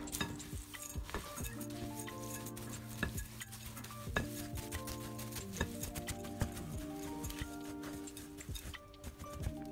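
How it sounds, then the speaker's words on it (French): A homemade granola mix of seeds and dates is stirred in a bowl, with soft scraping and light clinks of a utensil against the dish, close and fairly quiet, repeated in irregular strokes with no talking. "nos différentes graines et enfin nos dattes, et on va bien mélanger le tout"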